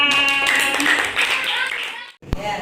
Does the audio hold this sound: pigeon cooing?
no